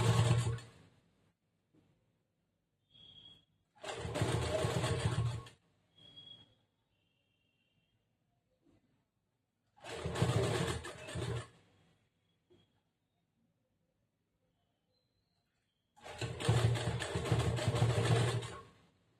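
A sewing machine stitching a princess-cut blouse runs slowly in separate bursts of whirring, each lasting a second or two, with quiet pauses and faint clicks between them.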